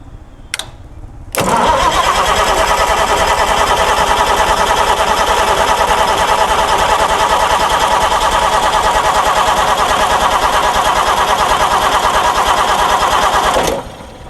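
A Perkins diesel generator engine cranks briefly, then catches and runs loud and steady at a rumbling idle for over ten seconds before stopping abruptly; no talking is heard.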